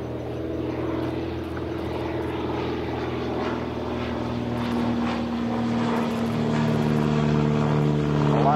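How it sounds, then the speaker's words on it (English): A Great Lakes Sport Trainer biplane making a photo flyby at Old Rhinebeck Aerodrome, its propeller engine droning steadily and loudly, the pitch shifting slightly as it passes. "Matt, you are in the Great Lakes Sport Trainer coming from the south."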